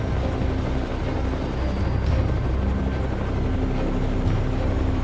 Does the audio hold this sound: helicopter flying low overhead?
yes